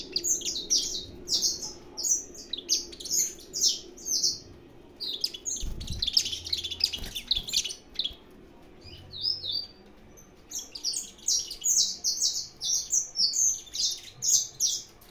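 Saffron finches in a breeding aviary, agitated and loose, give bursts of sharp high chirps and tweets in quick repeated phrases. Calls sound close, with a short lull midway, a thump, and faint background noise.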